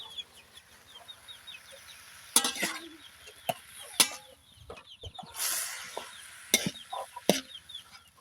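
Chickens cluck and chirp repeatedly in the background, with sharp intermittent clatters and knocks nearby; no talking.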